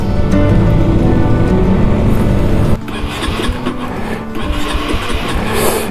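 A motorcycle engine that will not start in heavy rain churns loudly, then cuts out abruptly partway through, leaving the hiss of rain and scattered clattering.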